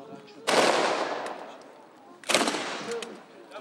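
Two loud, booming bursts of gunfire in a video game battle against German paratroopers, each ringing out and fading over about a second, the second burst followed by a short rattle.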